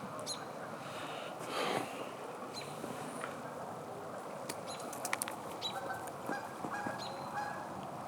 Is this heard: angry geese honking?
yes